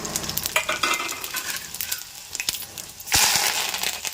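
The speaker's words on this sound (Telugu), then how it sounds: "అదిగోండి ఆయిల్ పోసాను, అదిగో ఎల్లిపాయ వేస్తాను" Garlic spits and sizzles loudly in hot oil for a bitter gourd fry, with stirring clatter and a sudden louder burst of frying near the end, close with no talking.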